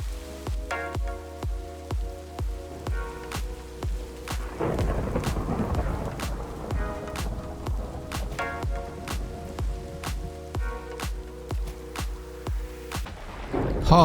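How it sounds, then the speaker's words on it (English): A thunderstorm in the TerraFirmaGreg game plays rain steadily while thunder rumbles and cracks repeatedly, with a heavier roll of thunder in the middle and a louder burst at the end. "There's a storm out there."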